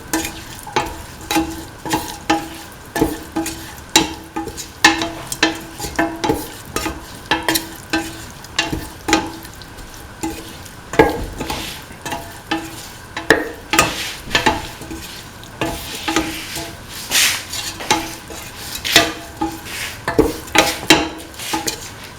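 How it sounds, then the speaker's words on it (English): A spoon stirs salt through beef and other ingredients in a sizzling pot, with steady rhythmic scraping strokes against the pan, loud and close, over a constant frying hiss with no voices. "Mix in the salt with the beef and the rest of the ingredients."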